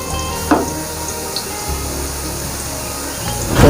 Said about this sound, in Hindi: प्याज सौते हो गए जी